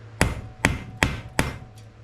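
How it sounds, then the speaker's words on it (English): A ball peen hammer setting a punch while reconditioning a 1973 Honda CB 125, four sharp metallic strikes in a steady rhythm, close and loud, followed by a faint fifth tap. "I'm going to take my small dead blow, or my ball peen rather. I'm going to put it in there, and I'm going to set it."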